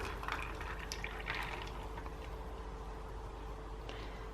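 Milk poured into a mug of iced coffee over ice, a steady liquid fill with soft gurgling and a few brief splashy bursts, close and fairly quiet.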